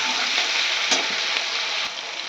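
Peas and chopped chili go into a hot pan already holding potato, carrot, onion, capsicum and cauliflower, setting off a loud, steady sizzle that runs unbroken throughout with no talking.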